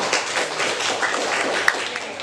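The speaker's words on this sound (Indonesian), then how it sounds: "Oke, tepuk tangan untuk kelompok" Steady applause from a classroom of teachers in a poetry training session in Jakarta, a dense continuous patter of many hands clapping at moderate loudness throughout.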